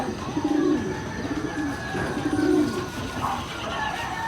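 Soft, low cooing calls from a pigeon, repeated in gentle rounded bursts close by, over a steady background hum.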